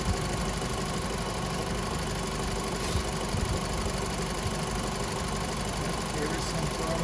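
A Volkswagen Passat B FSI engine idles steadily with a dense, continuous rumble and faint rhythmic ticking or knocking mixed into the drone, no voices.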